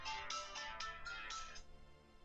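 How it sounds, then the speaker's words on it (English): A mobile phone ringtone plays a quick sequence of bright, beeping electronic tones, faint and somewhat distant, under a low background of game music. "And I have a truly annoying ringtone, I know."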